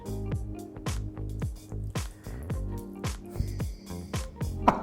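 Thick liquid is poured and splatters onto food during Christmas cooking, a run of wet squelching drips and splats at close range with no talk.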